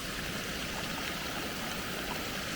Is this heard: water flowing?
yes